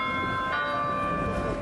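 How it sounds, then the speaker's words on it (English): Cathedral church bells ring in Lima, Peru, their steady tones sustained and overlapping in an outdoor wash with faint ambient noise underneath. "the bells of the cathedral rang once the world found out who the new pope was"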